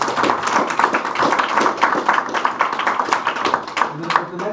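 An audience at a spoken word poetry open mic claps for a poet, giving a dense, continuous patter of claps at moderate loudness; speech runs under it.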